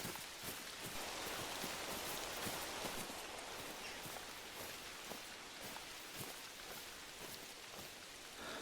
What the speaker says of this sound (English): it's literally raining. Like, full-on drops hitting the ground.